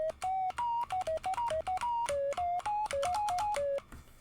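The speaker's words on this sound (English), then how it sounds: "And just with this, we have a very basic synth that we can actually play." Basic modular synthesizer patch through a voltage controlled amplifier playing a quick melody of about twenty short notes, each starting abruptly with a bright, buzzy, primitive electronic tone, close and loud, then stopping into quiet.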